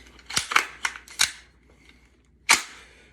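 A magazine pushed into an AR-15/M4 rifle gives a cluster of sharp metallic clicks and clacks, then a single louder snap after a pause, close and clear with no talk.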